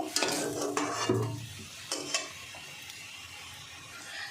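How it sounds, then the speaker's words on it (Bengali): Prawn and fig muitha dumplings frying in oil, a soft sizzle punctuated by several sharp clinks and scrapes of a utensil against the pan, close by and fading quieter toward the end. "এই 4টে তুলে আমি সবকটা মুইঠা ভেজে নেব।"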